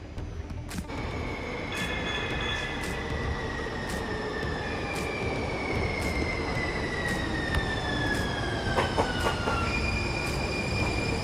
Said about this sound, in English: waiting for the next J Church train coming right now